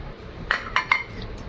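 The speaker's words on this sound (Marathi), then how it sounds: "गॅसवर कढई ठेवूया." A metal kadhai (wok) is set down on a gas stove, three quick metallic clanks close together against a quiet background.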